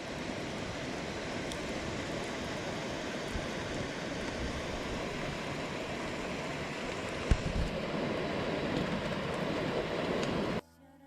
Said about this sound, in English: what a difference a little bit of rain makes to that waterfall